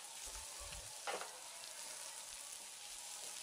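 Goat mutton pieces with garam masala and onions fry in a pan over medium heat, a soft even sizzle with a brief stir and a few low knocks, fairly faint throughout.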